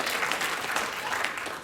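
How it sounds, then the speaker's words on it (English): Steady applause from an audience, dense and continuous clapping filling the whole moment without any talking. "Think what you're applauding."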